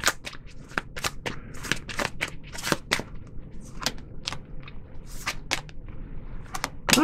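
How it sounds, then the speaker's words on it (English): Tarot cards are shuffled and flicked down one after another, producing a close, irregular run of crisp slaps and riffles with quiet gaps between them. "I'm going to throw a couple more cards on here."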